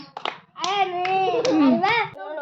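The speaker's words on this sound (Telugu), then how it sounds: "క్లాప్స్ కొట్టండి." A group of children claps hands during a fun game with friends, with a few sharp claps standing out among children's voices talking and calling nearby.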